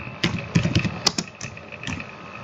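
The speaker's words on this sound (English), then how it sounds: "Now we have to type our name" Someone types on a computer keyboard nearby, a quick irregular run of sharp clicks and taps that thins out toward the end, heard on its own without speech.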